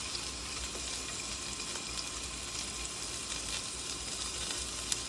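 Onion sizzles steadily in a hot pan for chicken chow mein, a close, continuous frying hiss without talk.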